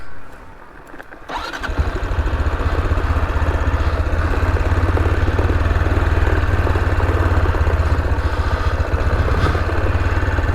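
A motorcycle engine holds back the bike on a long mountain descent in Victoria's high country, a steady, loud low drone with a faint start-up at the beginning, running continuously without talk.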